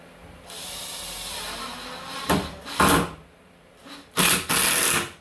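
A screw is driven into a timber door lining by a power driver, with a sustained whirring run followed by shorter bursts of loud, close buzzing.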